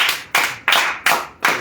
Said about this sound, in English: Get the almighty hand clap.